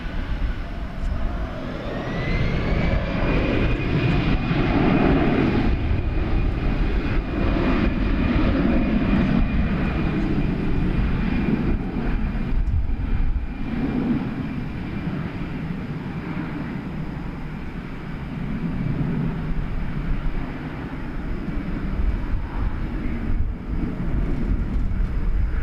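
A jet airliner takes off from runway 18 Left at DFW airport, a loud continuous engine roar with a rising whine that holds steady and swells over about twenty-five seconds, no voices.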